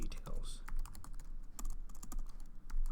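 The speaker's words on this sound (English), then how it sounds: "My typing is not the best." Computer keyboard typing while writing Java code, an uneven run of close, crisp keystrokes in quick bursts with brief pauses, and no talk over it.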